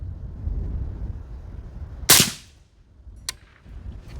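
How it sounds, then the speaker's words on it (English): A single sharp gunshot from a PRI MK12 .308 rifle cracks out close by and fades with a short echo, followed by a fainter distant report, with no one talking. "I'm going to shoot the one on the left"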